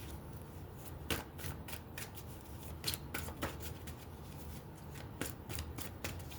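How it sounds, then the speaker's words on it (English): Tarot cards shuffled by hand, a series of quick crisp riffling bursts and soft slides repeating irregularly, close and fairly quiet, with no talking. "Shuffle these cards around."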